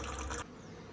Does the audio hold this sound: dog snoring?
no